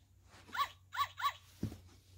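Puppy barking as a children's sound-book effect: three quick, high yips close together, then a dull low thump, all fairly quiet.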